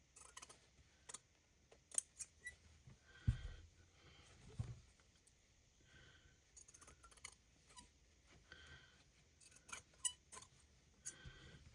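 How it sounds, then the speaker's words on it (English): Squeaky scissors cut small pieces of paper for a lavender craft, making quiet, close snips and clicks that repeat irregularly, with an occasional louder snap and no talk. "squeaky scissors"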